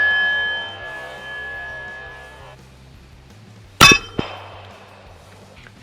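.45 ACP pistol rounds strike an AR500 steel target at an outdoor range, producing one sharp, loud metallic clang followed by a fainter second ring, heard after a few quiet seconds.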